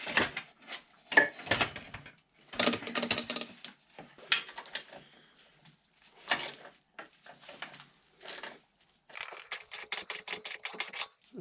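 Spanner or wrench work on a motorbike's 13 mm chain adjuster nut and 12 mm bolt, giving close, intermittent metallic clicks and scraping in bursts, ending with a rapid ratcheting run of clicks.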